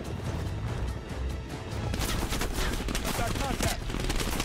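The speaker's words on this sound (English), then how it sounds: "Who's actually shooting me?" Gunfire in the video game Call of Duty: Black Ops Cold War, rapid bursts of shots and sharp impacts, growing denser and louder in the second half, with faint game sounds underneath.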